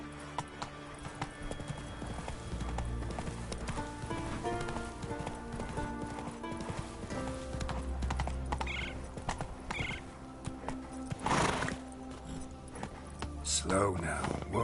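Horse hooves clip-clop in a steady trot in The Witcher 3 video game, with a neigh and some snorting, while a voice speaks over the hoofbeats.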